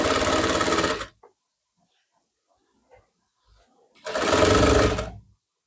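A sewing machine stitches lining onto the back neck of a blouse in two loud, steady whirring runs about a second long each, separated by near silence with a few faint handling clicks.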